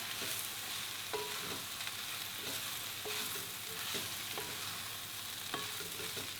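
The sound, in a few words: stirring mushrooms frying in oil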